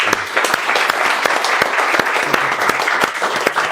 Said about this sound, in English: We're clapping for you, brother.